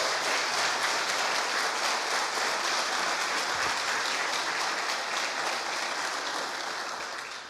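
A church congregation applauds at a Sunday celebration service, a dense and sustained wash of clapping from many hands that fades slightly toward the end.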